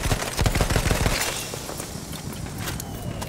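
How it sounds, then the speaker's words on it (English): Rapid machine gun fire in the video game Battlefield 1 comes as dense, loud bursts of shots that thin into a continuous rumbling battle noise. "I get to gun people."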